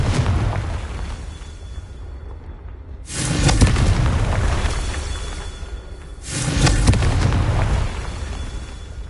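Two booming spell blasts from Confringo in Hogwarts Legacy, each a sudden loud burst that swells and slowly fades, spaced a few seconds apart over a steady rumbling game backdrop.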